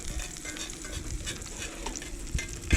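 Bones roasting in butter and garlic in a pan for broth, a busy crackling sizzle close by with scattered stirring knocks throughout.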